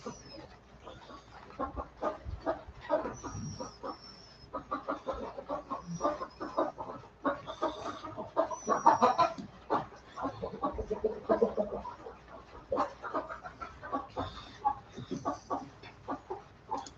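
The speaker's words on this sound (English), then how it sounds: "The little chickens." Small chickens cluck and peep busily in a barn, a dense, steady chatter of many birds close by that goes on the whole time, with occasional higher calls on top.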